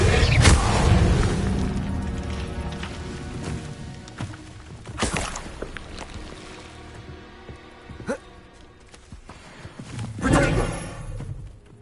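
Incendio fire spells cast repeatedly in a Hogwarts game, each a sudden whooshing boom that flares and fades, separated by quieter stretches of rumbling ambience.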